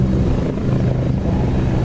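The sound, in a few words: helicopters flying at an air show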